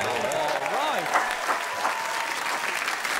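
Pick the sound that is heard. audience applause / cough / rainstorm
audience applause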